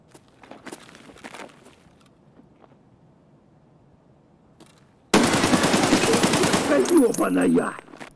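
A sustained, loud burst of rapid AK-74N gunfire in Escape From Tarkov erupts after a quiet stretch of faint clicks and footsteps, then cuts off abruptly.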